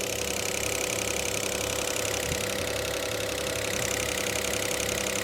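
A Dacia Sandero III Stepway 1.0 TCe engine running on LPG idles close by with a continuous, even rumble and faint mechanical knocking, with no voices.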